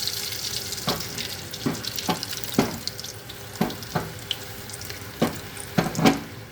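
Cheese kebab balls deep frying in white oil, heard close up as a steady sizzle punctuated by about eight sharp splashy bursts, one after another at irregular intervals, as each ball hits the hot oil.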